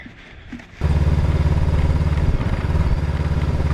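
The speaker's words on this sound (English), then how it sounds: "test the bike out on a longer road ride" A VOGE 500DSX motorcycle engine abruptly starts up loud and close, settling into a steady, rumbling mid-pitched drone, set near Clywedog Reservoir with no voices.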